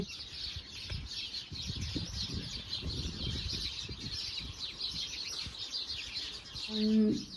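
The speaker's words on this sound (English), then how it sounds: "I think there's like baby birds nesting in it, and it was so cute, the sound of them" A dense, continuous chorus of high chirps comes from baby birds in a nest in a tree, with some low rustling and a louder short sound near the end.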